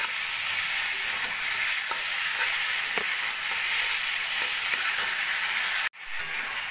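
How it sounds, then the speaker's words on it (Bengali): Spice masala with tomatoes frying in a pan, a loud continuous sizzle with soft stirring scrapes throughout, cut by a brief sharp break near the end. "এইভাবে নাড়া দিয়ে দিয়ে মশলাটাকে আমি একদমই ভাজা ভাজা করে নেব।"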